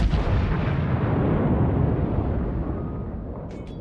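Naval gunfire in World of Warships, a heavy booming artillery blast and explosion that rumbles loudly, then slowly fades away.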